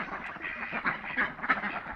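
Ducks on a duck farm quack in a steady, overlapping chorus of nasal calls, loud and close, with no voices present.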